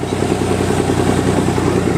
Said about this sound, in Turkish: 4 ileri bir traktör. Ferguson'ların 87 modeli bu.